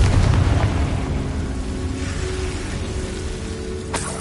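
A Confringo blasting spell goes off in a game, a loud boom at the start that decays into a rumbling roar and fades, with a faint sharp crack near the end.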